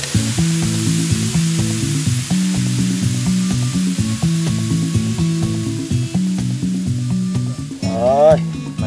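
Marinated meat sizzles in a pot as it is stir-fried, a loud, close, continuous frying hiss, while music with a steady beat plays and a brief voice-like sweep rises near the end.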